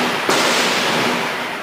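Gunfire during an attack by an armed MNLF faction on coastal barangays of Zamboanga City at dawn: one sudden sharp crack, then a long, loud, rolling wash of reverberating noise with no voices.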